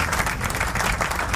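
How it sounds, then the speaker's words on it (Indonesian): Steady applause from a studio audience on a live radio broadcast, a dense continuous wash of clapping that stays even and fairly loud throughout. "Kasih tepuk tangan dong,"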